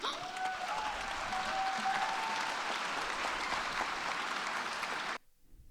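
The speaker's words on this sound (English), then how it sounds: "She got standing ovations and applause" Loud, sustained applause from a large crowd, steady clapping for about five seconds before cutting off abruptly.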